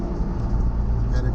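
Steady low road rumble of a car cruising north on Interstate 95 toward the Betsy Ross Bridge, a continuous close engine and tire drone with no breaks, and a voice heard over it.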